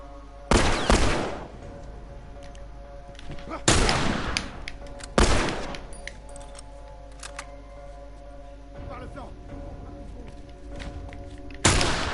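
Gunfire in The Last of Us video game: four loud, separate shots spaced a few seconds apart over a steady low background hum, each one a sharp close blast.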